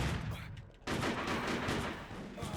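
Pistol gunfire in the video game Hitman Contracts: dense, loud rapid shots crackle almost continuously, with a brief lull near the start before the firing resumes.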